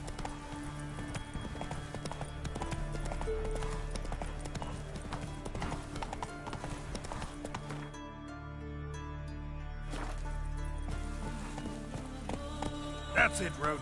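Hooves of the horse Roach galloping in The Witcher, a fast rhythmic clip-clop running under game music and ambience, with a brief quieter stretch midway and a voice speaking over it.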